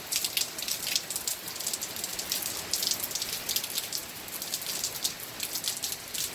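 Steady, heavy rain pours down continuously, a dense hiss of drops spattering on concrete, close and even throughout with no voices.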